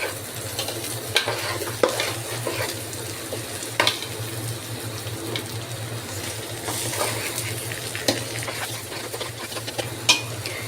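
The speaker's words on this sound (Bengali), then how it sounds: "চালটা সম্পূর্ণভাবে ভাজা হয়ে গেল।" Rice frying in a pot for biryani while being stirred, a soft continuous sizzle broken by intermittent scrapes and clinks of the spoon against the pot, close and fairly quiet.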